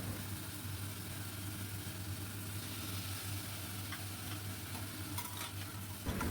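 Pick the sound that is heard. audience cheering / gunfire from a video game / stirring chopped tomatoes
stirring chopped tomatoes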